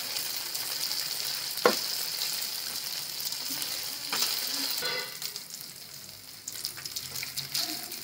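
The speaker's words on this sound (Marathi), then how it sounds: "अशा प्रकारे सर्व प्रॉन्स तळून घेते." Prawns deep-fry in hot oil with a steady, bright sizzle, punctuated by a few sharp clinks and brief stirring scrapes.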